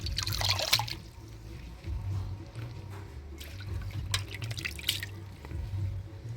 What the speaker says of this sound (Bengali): সবজি ডোগা পাতা সব ধুয়ে নিলাম।